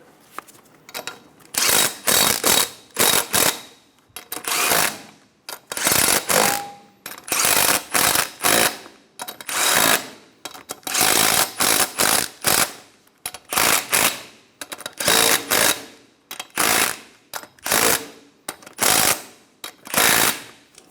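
A ratchet tightens strut mount nuts on a 2000-2006 Toyota Tundra: bursts of rapid clicking repeat in quick sets with short pauses between, loud and close, with no talk.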